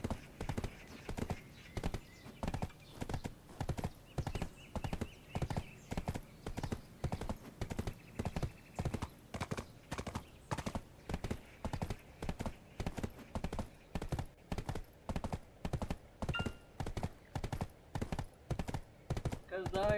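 Horse hooves clip-clopping in the video game Black Desert, a rapid, steady, even rhythm of hoof strikes that runs without a break, with a brief whinny-like sound in the background.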